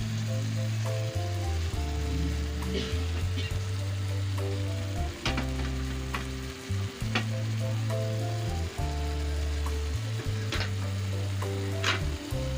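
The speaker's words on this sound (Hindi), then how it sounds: "ये सब्ज़ मिर्ची शामिल कर रही हूँ" Green chillies go into chicken gravy frying in a pan, giving a loud continuous sizzle with stirring scrapes and occasional clinks, no talking.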